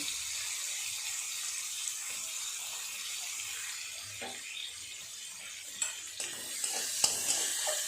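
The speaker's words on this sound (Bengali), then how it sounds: "এই তেলেই দিয়ে দেব কেটে রাখা পেঁয়াজ আর সেদ্ধ করে রাখা রসুন" Chopped onion and boiled garlic fry in oil with a soft, steady sizzle, followed near the end by a few light clinks and stirring knocks.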